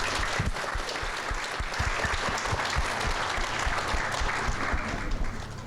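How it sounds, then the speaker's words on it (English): A graduation gala audience at Fort Canning applauds the graduating class, a sustained dense roar of many hands clapping, loud and even throughout with close individual claps standing out. "Let's give them a round of applause, please"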